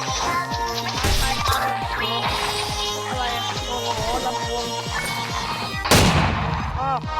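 Rapid repeated gunfire from a Roblox stick battle game, loud punchy shots in quick rhythmic bursts throughout, with a sharp burst near the end.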